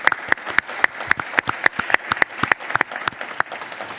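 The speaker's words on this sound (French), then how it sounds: "Applaudissements" Studio audience applauding, with sharp individual claps standing out clearly in a close, lively, uneven rhythm.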